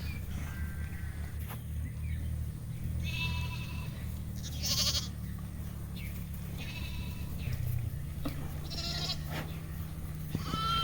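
Sheep and ewes bleat repeatedly at feeding time, several overlapping calls near and farther off, over a constant low rumble of engine or wind.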